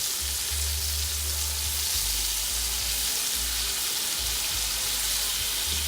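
Liver pieces frying in a pan, a constant bright sizzle and hiss with a low rumble underneath, steady and close with no talk.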